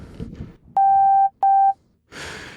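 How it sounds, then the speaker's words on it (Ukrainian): Two steady pure sine-wave test tones from a synthesizer patch, each about half a second long with a short gap between them, loud and clean, framed by soft breathing before and a hiss of noise after. "найпростіший це проста синусоїда"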